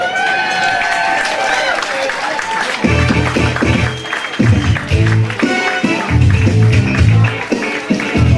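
Audience applause at a youth under-15 sports team award presentation night, a dense crowd clapping, some cheering mixed in, rising in bursts over a loud music backing through the whole stretch.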